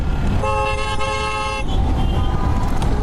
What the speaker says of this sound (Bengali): এই হর্নটা কোন জায়গা থেকে নিছি